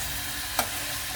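Pork chop marinated in soy sauce and calamansi frying in a pan, a steady close hiss with one brief clink or scrape midway, no voices.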